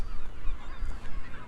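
Seagulls around a colony of nesting penguins on Chile's Magdalena Island squawk in a noisy, overlapping clamor of harsh honking calls, close and continuous over the whole brief stretch.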